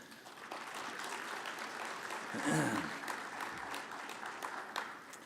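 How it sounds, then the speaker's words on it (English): An audience at the IROC 2026 keynote address gives a round of applause, a sustained wash of clapping that swells briefly near the middle and then tapers off gradually. "So maybe a quick round of applause for them."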